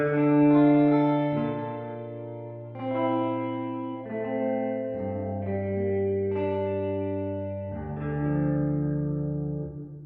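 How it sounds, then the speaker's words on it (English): Sustained guitar chords ring out through a gritty, distorted reverb effect from a 24-bit DSP processor cranked to 90%, with long reverb tails, several notes changing slowly one after another. "If you just need a dirty reverb sound or whatnot."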